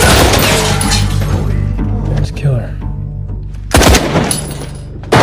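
Gunfire in a film attack scene at a Taliban bomb-assembly site in the Afghan war: loud, continuous bursts with shattering impacts and booms, strong throughout with sharp peaks near the end.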